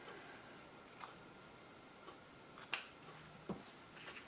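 Scissors snip artificial flower stems in a quiet room, giving a few faint, sparse clicks with one sharper cut standing out.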